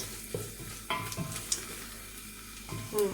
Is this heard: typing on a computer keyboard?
no